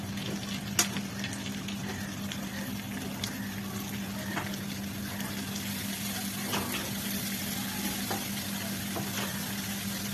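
Sliced potato and eggplant frying in a pan for a small-fish chochori, a steady close sizzle with scattered faint crackles and pops, no voices.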